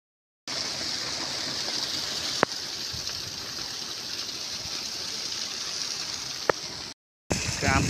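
The Patalganga river flowing outdoors, a steady broadband rush of moving water heard close and continuous, with a couple of faint clicks and a short break near the end.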